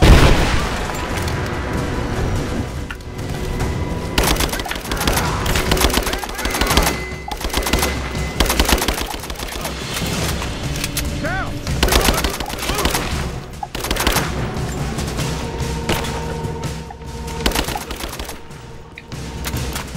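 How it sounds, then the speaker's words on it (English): Gunfire in the video game Rise of the Tomb Raider, loud and continuous with rapid automatic bursts, single shots and booming impacts, dense and close throughout. "Open fire!"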